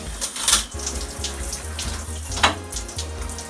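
Creek water flows steadily at close range, a continuous rushing murmur with a few splashier surges and no voices.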